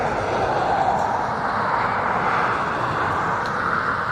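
An ATR turboprop at a windy Dublin Airport gives a steady, loud broadband roar that holds evenly throughout, mixed with wind noise and no clear rise or fall.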